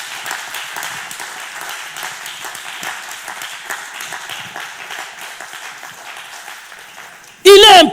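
A church congregation applauds the Lord in a steady wash of clapping that runs for several seconds under some voices, and a loud burst of sound cuts in near the end.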